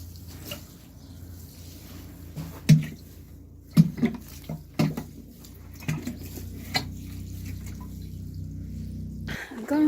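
Hay bags being soaked with water in a barn yard, with bursts of splashing and pouring and a few knocks, a voice talking over much of it.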